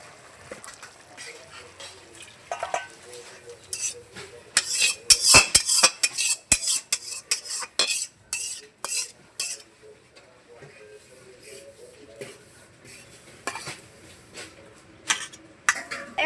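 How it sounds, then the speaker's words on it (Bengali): Stirring fish curry with coriander leaves in a pot over a clay stove: repeated clinks and scrapes of a metal spoon against the pot, bursts of clatter in the middle, then softer intermittent stirring, close and moderately loud. "ধনে পাতা দিয়ে নাড়াচাড়া করে নিচ্ছি"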